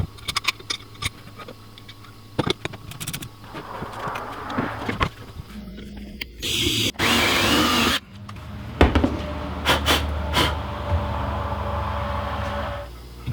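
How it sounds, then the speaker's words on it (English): Scattered clicks and taps lead into a short, loud whirring burst of a power drill boring through wood with a 1/4 inch bit, then more light handling clicks. "use that as a guide to drill right through with a 1/4 inch drill bit"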